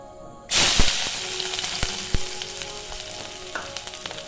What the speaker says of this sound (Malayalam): ഇനി ഇതിലേക്ക് നമുക്ക് ഉള്ളി, വെളുത്തുള്ളി, ചെറിയ ഉള്ളി ഇട്ട് കൊടുക്കാം